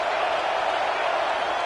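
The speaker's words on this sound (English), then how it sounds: "It's early, but this crowd is fired up. Listen to this noise here." Dense stadium crowd noise roaring at a football game, a steady broadband wash of cheering with no breaks or peaks, loud and continuous throughout.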